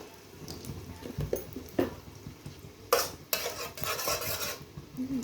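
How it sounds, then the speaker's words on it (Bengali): Ghee melting and heating in a hot wok over a gas flame, with faint low sizzle under scattered metallic clinks and scrapes of a utensil against the pan, growing into a steadier hiss in the second half. "কড়াইটা গরম হয়ে গেছে, একটু আমি ঘি দিয়ে দেব। ঘি দিয়ে কিন্তু একটু ভেজে নেব।"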